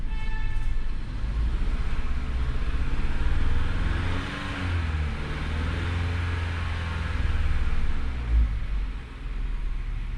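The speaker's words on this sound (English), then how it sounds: "Start the vehicle. So let me just raise the RPM again." A 2022 Genesis GV70 with a P0304 cylinder-four misfire idles and is revved to raise RPM, giving a steady, close engine drone with mild rises in pitch and level throughout.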